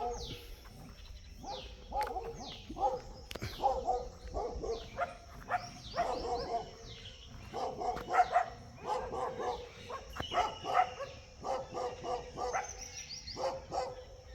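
Several dogs bark repeatedly in a village in Mansa district, Punjab, a mix of fairly distant and nearer barks and yips in uneven bursts across the stretch, with faint bird calls in the background.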